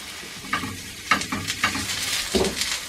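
Onions and carrots charring in a hot pan for pulled pork, a steady sizzle broken by several scraping stirs of the vegetables, close up and without talk.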